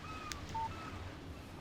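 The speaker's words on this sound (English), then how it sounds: "text message from Barry." A short electronic text-message alert chimes on a phone in the video game Alan Wake Remastered, a single brief tone standing out over a quiet, hushed game ambience with no talking.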